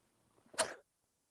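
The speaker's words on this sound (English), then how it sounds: "I'm going to sneeze here in a sec." A single sharp sneeze, close and fairly loud, with a brief breathy buildup before the burst, then silence.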